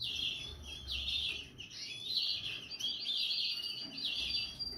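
Small cage birds chirp in a steady stream of high, bright twittering that runs the whole time, faint and continuous over a low background hum.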